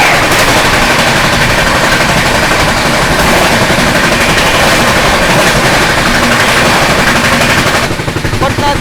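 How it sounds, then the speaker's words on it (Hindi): The Patna Tejas Rajdhani Express, running from Rajendra Nagar Terminal in Patna toward New Delhi, rushes past with a loud, continuous roar and rattling clatter that holds steady for several seconds, then eases slightly near the end. "सामने से आ रही है राजेंद्र नगर टर्मिनल पटना से चलकर नई दिल्ली की ओर जाने वाली पटना तेजस राजधानी"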